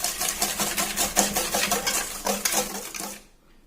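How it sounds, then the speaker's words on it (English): A whisk beats sugar and other scone ingredients in a bowl with rapid rhythmic clinking and scraping strokes, close and fairly loud, then stops abruptly near the end, with no talking. "Then you take your whisk, and now you whisk them together."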